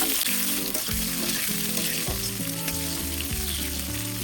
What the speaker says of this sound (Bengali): কড়াইতে পরিমাণ মতো সরষের তেল গরম করে দিয়ে দিচ্ছি কেটে রাখা আলুগুলো